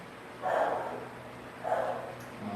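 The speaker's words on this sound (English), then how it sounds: "There goes my dog." A dog barks twice, deep and moderately loud, with a pause of over a second between the two barks, against a quiet room background.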